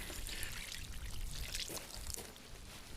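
Stock poured into a pan of cooked cabbage, a soft, continuous liquid pour heard close and fairly quiet for a few seconds.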